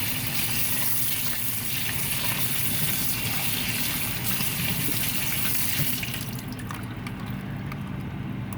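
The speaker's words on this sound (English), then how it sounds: "I'm going to run it under some cold water to remove any additional residue." Cold tap water runs steadily and loudly over a lobster tail, a continuous hiss and splash, then the flow changes tone near the end.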